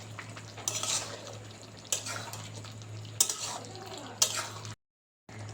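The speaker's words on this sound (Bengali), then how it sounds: "দিয়ে চিকেনটার সাথে এটাকে ভালো করে মিক্স করে দেবো" Browned vegetables being mixed into chicken in a pan: four evenly spaced scrapes and clanks of a utensil against the pan over a soft background sizzle and a low hum, ending in a brief silence.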